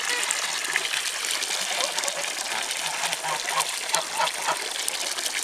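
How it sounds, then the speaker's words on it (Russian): Water gushes and splashes as it is poured for geese at evening feeding time, a continuous close pour with birds stirring nearby. "Сейчас налью вам воды"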